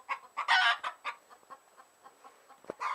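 Backyard chickens clucking in a yard, a series of close, sharp clucks and squawks in irregular bursts with a brief louder squawk near the start, no talking.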